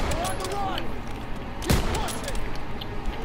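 Gunfire in the World War II shooter Call of Duty: WWII, a dense run of shots and bursts with one loud, close report standing out midway, the firing continuing under game noise and talk.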